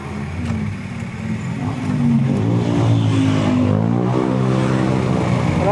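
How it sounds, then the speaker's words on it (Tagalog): Car engines in road traffic, a steady drone that swells as a nearby vehicle revs and accelerates, loud and close with no talk. "Traffic nga lang din eh."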